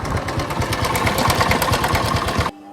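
A new motorcycle carrying a passenger hums along with a fast, throbbing engine pulse close by, running steadily for about two and a half seconds before cutting off abruptly.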